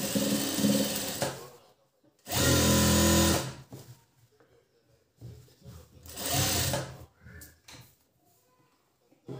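Sewing machine stitching a blouse in two loud sustained runs of several seconds each, separated by quieter handling noises and brief murmured talk.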